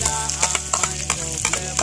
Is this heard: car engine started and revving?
no